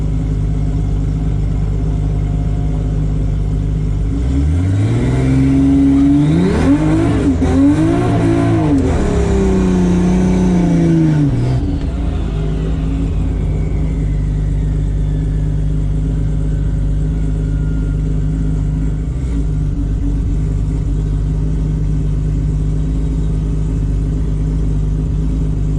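Race cars at the TX2K21 drag racing event, where a Mustang has just spun, roar loudly as engines rev and accelerate with rising and falling pitch, then fade into a steady distant engine rumble and crowd ambience.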